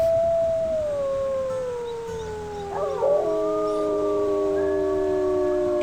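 Wolf pups in the video game WolfQuest howl together, several long drawn-out wavering tones overlapping and sliding in pitch, loud and steady with no talk.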